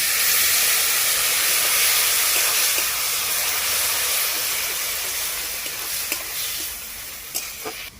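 A loud hissing sizzle erupts as a small amount of water hits curry with mustard-poppy seed paste in a hot pan, starting strong and gradually easing into softer bubbling with a few light stirring knocks near the end.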